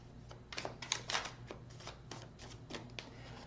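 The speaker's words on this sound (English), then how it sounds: "1 more shuffle." A deck of tarot cards being shuffled close by, a run of crisp riffling bursts and soft slaps repeating every half second or so against a low steady room hum, with no one talking.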